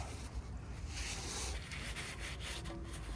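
Rag wiping during an oil and filter change on a Renault Scenic 3 2.0 dCi (M9R): steady, close soft rubbing and scuffing throughout, alone with no talk.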